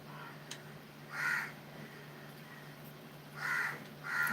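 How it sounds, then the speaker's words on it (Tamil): A crow caws three times, loud and fairly close, each call a short harsh burst spaced a couple of seconds apart over a steady low hum. "ஆமாம் காக்கா இருக்கு"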